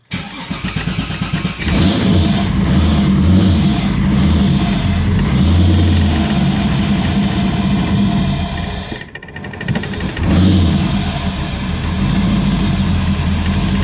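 An old Chevy with an LS3 V8 cranks and fires, then idles with a loud lumpy rumble near the microphone; the engine briefly cuts out or dips before catching and running again. No one speaks.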